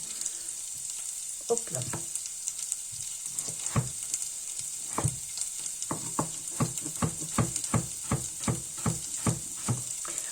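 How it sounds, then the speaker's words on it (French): Onion and potatoes fry in a pan over lowered heat, a soft continuous sizzle with a run of regular crackling pops and stirring scrapes; a voice briefly speaks. "On va faire revenir notre oignon avec nos pommes de terre."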